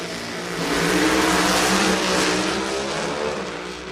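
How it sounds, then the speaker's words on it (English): Drag racing cars at the starting line of a national event at America's Racetrack in Norwalk, engines revving loudly in a sustained roar that swells and eases slightly. "Rev them up, stage them up."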